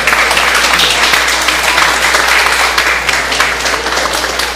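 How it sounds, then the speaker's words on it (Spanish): Loud, dense applause from an audience after an academic presentation on labor law, continuous clapping with no pauses across the whole stretch. "Fuerte los aplausos, por favor."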